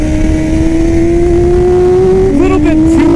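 Close, loud engine of a race-prepped Yamaha R6 motorcycle making 117 horsepower, holding a steady high drone at a small go-kart track, then blipping the throttle in a few quick revs near the end.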